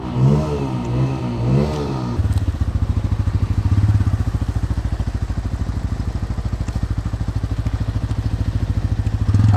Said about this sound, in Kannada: ಅಲ್ಲಿ ಬೈಕ್ ಹೊರಟಿದೆ ಇನ್ನೊಂದು ಬೈಕ್ ಅಲ್ಲಿಂದ ಬರ್ತಾ ಇದೆ